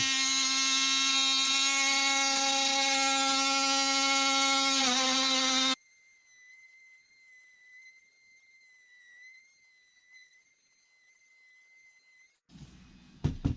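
An oscillating multi-tool runs with a loud, high, buzzing whine during a narrowboat fit-out, then cuts out, leaving a fainter thin whistle and a brief clatter.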